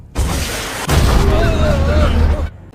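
A film battle scene in which an RPG is fired at a patrol, a loud blast bursting in after a softer opening and rumbling on heavily with some faint tonal sounds over it, before cutting off sharply.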